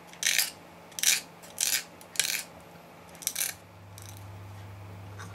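A coarse nail file rasps against metal in about six short, sharp strokes, each a bright scraping burst, before a low steady hum takes over near the end.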